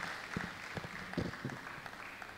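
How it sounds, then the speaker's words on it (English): Faint, scattered audience applause at a college lecture and award ceremony, a thin patter of hand claps under a hollow hall ambience, swelling briefly in the middle. "A hand of applause for her, please, as she comes forward."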